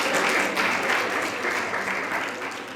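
A girls' soccer team banquet crowd applauds together, a warm, dense wash of clapping from many people in a room that holds steady and then tapers slightly.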